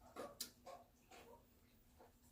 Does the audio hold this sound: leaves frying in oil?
no